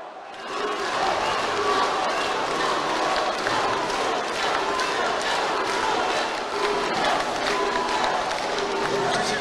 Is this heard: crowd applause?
yes